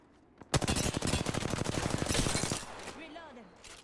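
Rapid automatic gunfire in the video game Apex Legends, a fast burst of close, loud shots lasting about two seconds, followed by quieter game sounds and a voice.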